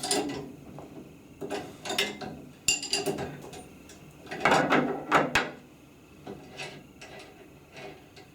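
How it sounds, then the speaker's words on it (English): Metal parts clink, click and rattle in irregular bursts as the caster assembly is taken off a multisport wheelchair, close and fairly loud with no speech. "then we'll take the caster assembly off"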